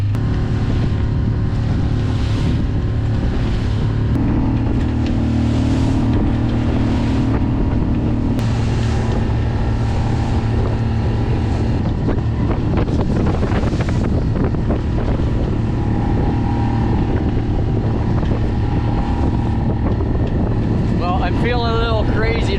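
A sailboat pushed by its outboard motor through heavy chop on stormy Georgian Bay, with a steady loud engine drone, roaring wind buffeting the microphone and water slapping the hull throughout.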